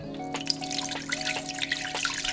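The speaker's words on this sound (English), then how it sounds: "And now I'm going to get it poured into my pot." Mung bean liquid poured from a bowl into a pot makes a steady, close trickle of running liquid that continues throughout, with a few soft splashes.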